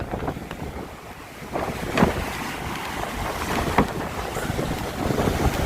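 A motor boat moves across open water in the rain, with wind buffeting the microphone and waves splashing, a continuous rushing roar with occasional thumps.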